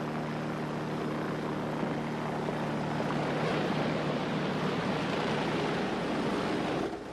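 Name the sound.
helicopter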